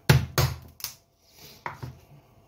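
A raw chicken carcass is broken apart by hand for poultry stock, giving a few sharp, close cracks and snaps in quick succession, then a pause and two more cracks, with nothing else heard.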